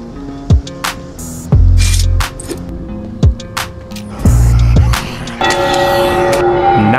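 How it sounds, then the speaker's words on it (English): Church bells ringing repeatedly in the zombie video game The Walking Dead: Saints & Sinners, enhanced Quest 3 version, with loud metallic tolls recurring across the scene amid other game sounds. "Now that I've waited for the bells to ring,"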